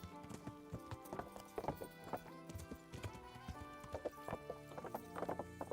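Rapid horse hoofbeats gallop in a steady rhythm, with an occasional whinny, from the video game Kingdom Come: Deliverance, fairly quiet and continuous throughout.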